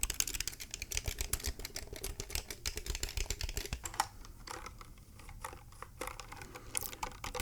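Rapid, steady keystrokes on a compact 60% computer keyboard, close and fairly quiet, with dense clacking through most of the stretch and a few sparser, slightly louder taps toward the end.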